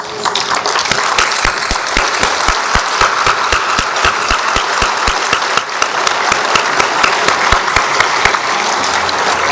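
Audience at an annual healthcare gala gives a sustained round of applause as founding members stand, dense clapping from a large room with a few sharp nearby claps standing out, steady and fairly loud throughout.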